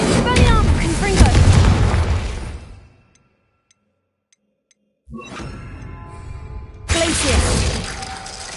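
Confringo explosive spell blasts in the Hogwarts Legacy video game: a loud booming burst with shattering debris and mixed voices, a sudden silence of about two seconds, then a further blast rises again.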